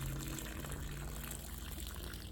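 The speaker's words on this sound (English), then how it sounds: "Just gonna pour this water" Water is poured out of a gold pan over its riffles during gold prospecting with hillside paydirt, a soft continuous pouring splash, close and fairly quiet, with no talk.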